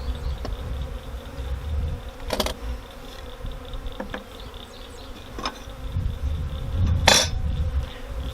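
Honey bees buzz around hives on moving day, a steady close drone with individual bees zipping past the mic at intervals and faint clinks in the background.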